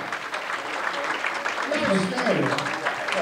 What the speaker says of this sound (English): Nice round of applause for Mr. B.I.G.